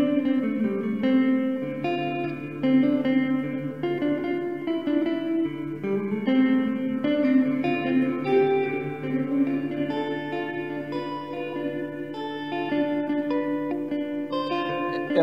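Electric guitar with Fishman Fluence pickups, neck pickup in passive voice, chords and notes ringing out steadily with a swirling phaser sweep, played alone at a moderate, even volume throughout.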